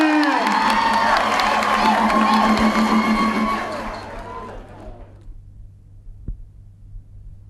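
Crowd cheering and clapping after a sung performance with interpretive dance by a provincial non-formal education group in Phrae, loud and mixed with shouting voices for a few seconds, then dropping away to quiet room noise.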